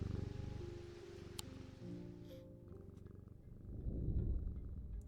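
A cat in the antique-shop game Strange Antiquities purrs as it is petted, a low continuous rumble that swells louder near the end beneath quiet background music.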